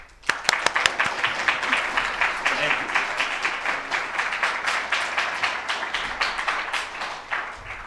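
Sustained audience applause greeting lecturer Terry R. Myers in a hall, dense steady clapping with a few sharp louder claps near the start, lasting throughout.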